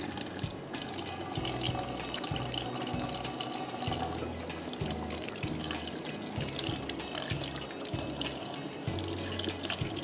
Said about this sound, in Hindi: घर जाने से पहले हम अपने साफ़ हाथ धोएंगे